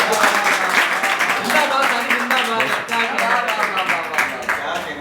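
An audience at a shayari poetry recital claps loudly and continuously, a dense patter of many hands that holds for several seconds with a slight dip midway.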